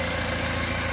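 The 2.6 litre engine of a Mahindra Getaway pickup runs at a steady idle after an overhaul, a brief, even, close-up mechanical hum with low vibration and no talk.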